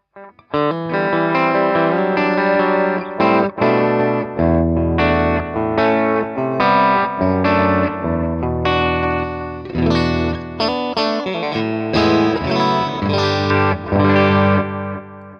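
An electric guitar through a BOSS Nextone Stage 40W amp's onboard delay and reverb plays dense, sustained chords and notes through heavy effects, with echoing repeats and a wash of reverb trailing each phrase.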